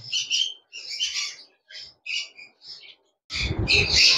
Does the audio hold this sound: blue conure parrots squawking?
yes